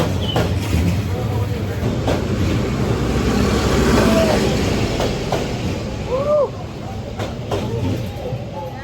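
A passing train in Hanoi, Vietnam rumbles with clattering wheels and occasional high metallic squeals, loud and close, while people talk faintly in the background.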